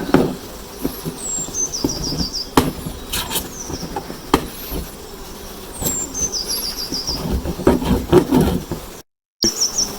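Honey bees buzz around an opened National 14x12 hive during an inspection, with birdsong chirping over the drone, scattered knocks and scrapes of hive parts, and a brief cut to silence near the end.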